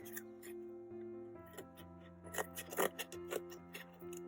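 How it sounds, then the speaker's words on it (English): Scissors cutting into a cardboard box, with a series of crisp snips and crunches growing louder near the end over a steady background hum. "Now what I'm going to do is cut to about halfway"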